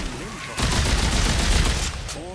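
A burst of weapon fire in the sci-fi horror shooter Dead Space 3, a loud sustained roar of shots lasting over a second, with brief voices just before and after.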